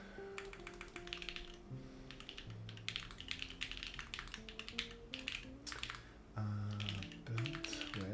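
Typing on a Filco Majestouch Convertible 2 TKL mechanical keyboard, dense rapid key clicks in uneven bursts, close and clear, with no talk over them.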